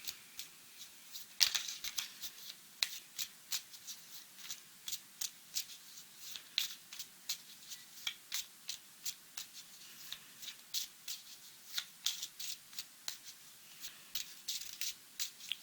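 A deck of tarot cards is shuffled by hand with a quiet, close series of soft rhythmic slaps and riffling flicks repeating at an even pace, with no talking.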